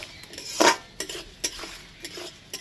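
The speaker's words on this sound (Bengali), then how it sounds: "ডালটা একটু ব্রাউন করে ভেজে নিয়ে তারপরে আমি চালটা দিয়ে দেবো" Lentils frying in a pan for temple-offering khichuri, stirred with a metal spoon: a loud scrape near the start, then several shorter clinks and scrapes against the pan over a faint sizzle, with no talking.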